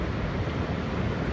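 The flooded Muskoka River rushes over High Falls at Bracebridge, Ontario, running higher than normal, giving a dense, continuous roar of water, loud and unbroken, with no voices.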